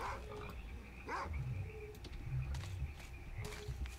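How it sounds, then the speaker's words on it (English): In S.T.A.L.K.E.R. Call of Pripyat with the Misery mod, a pseudo-dog attacks a flesh mutant, giving sharp barks, yelps and low grunting snarls in scattered bursts, heard at moderate distance. "the flesh is being attacked by the pseudo-dog"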